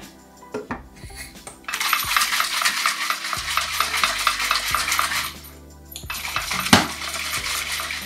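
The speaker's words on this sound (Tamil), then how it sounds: "நல்லா கலக்கி எடுக்கலாம்." A spoon stirs ground urad dal batter thinned with a cup of water, made for Jaffna yellow masala dosa. The stirring is a busy, close scraping and clinking against the vessel, with a brief pause and one sharper knock.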